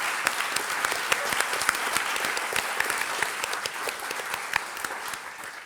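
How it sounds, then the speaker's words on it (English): A lecture audience applauds steadily, dense clapping filling the whole stretch at an even level, with no voices rising above it. "I think we owe you a big round of applause"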